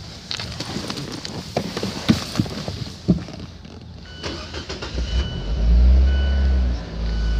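An automatic 2018 Fiat 124 Spider convertible starts, a few clicks and interior noises followed by the engine cranking and catching into a loud rumbling idle near the end.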